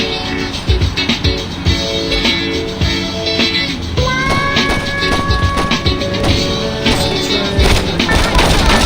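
Gunfire in Saints Row 2: rapid, loud bursts of shots crackle continuously in a chaotic firefight, joined midway by a sustained whistling, siren-like tone over the din.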